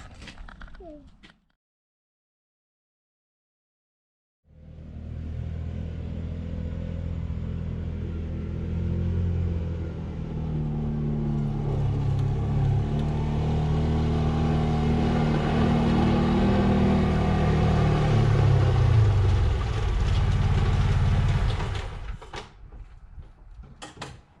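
Kawasaki Teryx UTV on tracks driving through puddles, its engine rising in a loud, steady rumble after a short silence and building for about eighteen seconds before easing off.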